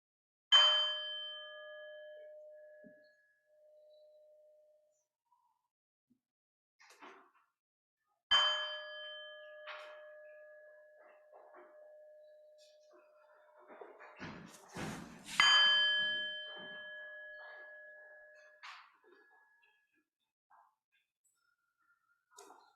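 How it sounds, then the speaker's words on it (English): A bell is struck three times to begin a worship service, each strike ringing out clearly with a long, decaying tone in a quiet room, separated by several seconds of near silence. "prepare to begin worship by hearing the sound of the bell."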